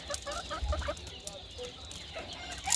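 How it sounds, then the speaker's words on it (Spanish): A hen clucks in short repeated bursts, close by, with some quieter clucks and background farmyard noise. "Miren qué belleza de gallina"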